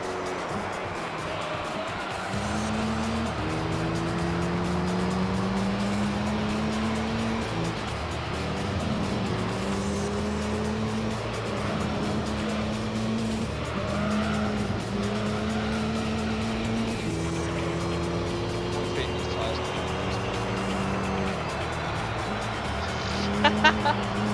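Race cars racing in Gran Turismo 3, including a Lotus: engines rise and fall steadily through gear changes and laps for the whole stretch, with tire noise beneath, while someone talks over the racing throughout.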